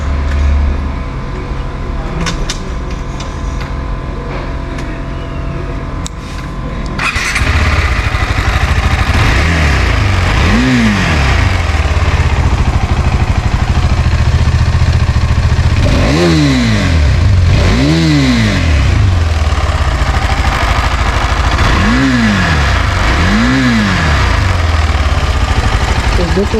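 A KTM 390 Adventure motorcycle with a liquid-cooled engine is started and settles into a close, steady idle, then is revved in several sharp, rising bursts.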